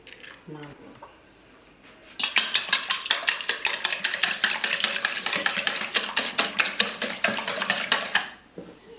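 Eggs are beaten in a bowl for crepe batter with quick, regular clinking strokes that start after a short quiet moment, run briskly for several seconds close by, then stop.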